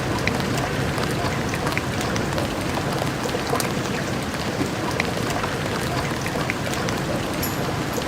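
Steady, dense rain in Deus Ex: The Nameless Mod, an unbroken hiss of drops pattering on surfaces with occasional sharper drips, constant and fairly loud throughout with no voices.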